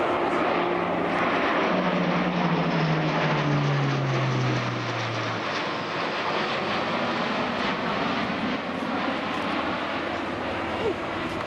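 Airbus airlifter flying a display at the Farnborough airshow, a loud broad turboprop roar with a falling propeller tone in the first seconds, then a sustained wash of engine noise as it passes.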